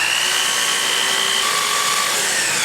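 A power saw, likely a miter saw, slices through baseboard trim at a 45-degree angle, a steady loud whine with a high grinding edge running without pause, no voices.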